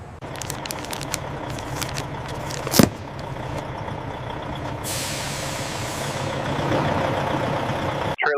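A truck idling at a loading ramp lets out a loud, sustained air-brake hiss as the brake is set, over a steady low engine rumble with a brief clank beforehand.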